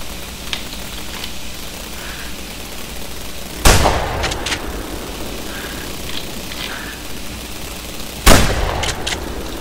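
Two loud, sharp rifle shots about five seconds apart in theHunter: Primal, a dinosaur-hunting game, over a steady low ambient bed, each followed by a short echoing tail.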